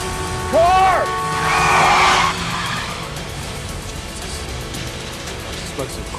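Car tires skid and squeal sharply in a crime-comedy scene, a loud screech rising and falling over about two seconds, then fading into a low rumbling background.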